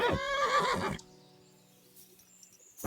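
A horse in Kingdom Come: Deliverance II lets out a loud, close whinny that ends after about a second, followed by a quiet low hum and faint game ambience.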